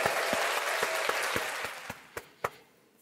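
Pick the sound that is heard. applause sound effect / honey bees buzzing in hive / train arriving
applause sound effect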